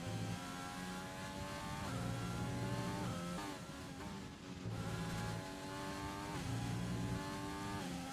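An F1 race car in the video game F1 2020, threading corners at the Austria GP, its engine whining loud and steady with pitch rising through gear changes and dipping into braking zones, alone without talk.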